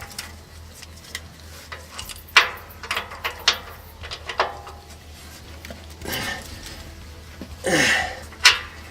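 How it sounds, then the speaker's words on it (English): Panhard bar bolts being tightened with a power bar on a 1999 Toyota Prado: close metallic clicks and ratcheting, scattered knocks and a couple of longer grinding turns, with no talking over them. "So now what we need to do is basically tighten up both bolts."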